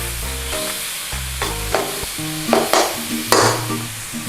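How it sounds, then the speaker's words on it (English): Chopped tomatoes and cumin seeds fry in a pan for chicken saagwala, with a close sizzle and a series of spoon scrapes and knocks as they are stirred around; no one speaks. "Give it a little stir around. Work it in the pan."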